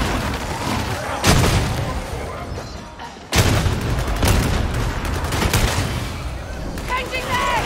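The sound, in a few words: grenade explosion in video game Warhammer 40k Darktide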